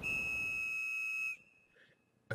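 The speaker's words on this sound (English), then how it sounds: "a clear, high-pitched sound like whistle echoed nearby." A clear, steady high-pitched whistle tone sounds close by for about a second and a half, then cuts off, leaving a faint chirp and quiet outdoor background.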